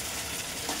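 Paneer cooks in a pan with a steady, close sizzle and light stirring through a brief moment, no speech heard.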